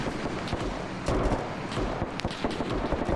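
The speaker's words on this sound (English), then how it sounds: "Yeah, it was an MG." Machine gun fire in a World War II battle video game, rapid rough bursts with distant rumbling explosions, fairly quiet and continuous.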